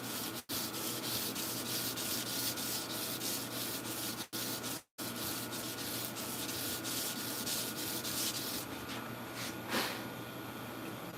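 Sandpaper rubs by hand along a late medieval sword blade in steady, rapid back-and-forth strokes, close and continuous, broken by a couple of brief pauses, with no voices.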